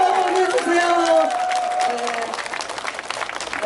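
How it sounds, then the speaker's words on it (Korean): Crowd applause for professors at an outdoor political rally at Migeum Station, with steady clapping throughout and a voice over a loudspeaker talking near the start. "박수 한번 보내주세요"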